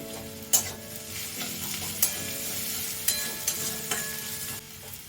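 Onion and garlic sizzling in a pan of hot oil while soya keema is being prepared, with steady frying hiss and a few sharp scraping stirs of a spoon at intervals, close and alone without talk.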